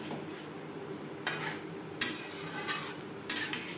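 Metal spoon clinking against a pot while stirring garam masala powder into mutton and potato curry gravy, a few sharp knocks over a steady low background.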